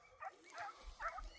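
Podenco Canario hunting dogs on La Palma giving three short, faint yips or barks from some distance, outdoors with low background noise.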